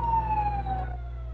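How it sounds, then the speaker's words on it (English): Emergency vehicle sirens wail outside with a steady falling tone, loud and continuous, heard from indoors with no talk over them. "Talk over the loud wee-woos outside."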